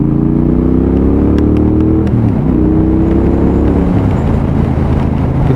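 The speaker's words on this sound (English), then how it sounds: "it's very quick to get up to 70 mile an hour" A Triumph Bobber 1200cc motorcycle accelerating on a cold day off a roundabout, engine note climbing in pitch, dropping at a gear change, then rising again under loud wind rush.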